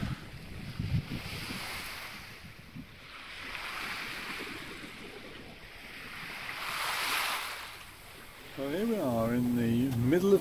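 A sailing yacht motoring from the Channel into the Bay of Biscay, with waves washing past the hull in slow surges and wind buffeting the microphone, while someone talks over it near the end.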